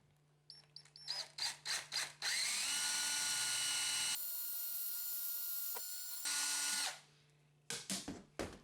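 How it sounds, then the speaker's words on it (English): A power drill bores mounting holes for a Viking shield handle in short bursts, then a long sustained run of several seconds, followed by more brief pulses, loud and close with no talking. "I just marked them with a drill, recentered them, drilled them out"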